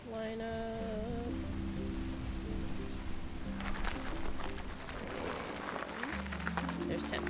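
Steady rain falls in the farming video game Paleo Pines, a continuous hiss under soft tonal game music that fades in and out.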